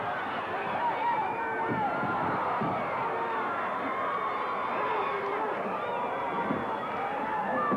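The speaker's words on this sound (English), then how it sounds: "This crowd is going wild." A wrestling crowd at a 1982 ICW cage match roars continuously and wildly, a dense, loud, sustained cheer with shouting that never lets up, while a commentator talks over it.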